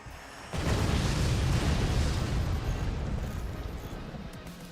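Rockets firing and exploding in the physics-based RTS game Forts: a sudden loud, sustained deep rumbling barrage kicks in and rolls on, fading slightly toward the end.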